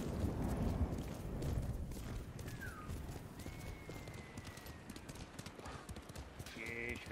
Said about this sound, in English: So the horse is called Nobo.